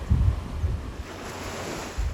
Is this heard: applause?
no